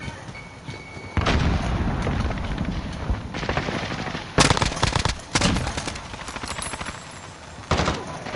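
A grenade explodes amid rapid gunfire in a PS4 shooter game. Bursts of automatic fire and heavy booms come loud and dense over a constant rumble of battle, with sharp blasts near the middle.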